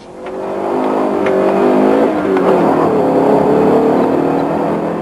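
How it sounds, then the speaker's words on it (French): An Alfa Romeo Alfasud pulls away hard from a hill-climb start, its engine note climbing loud and close through several seconds of sustained acceleration, with no voices. "L'Alfa Sud a pris la première le départ."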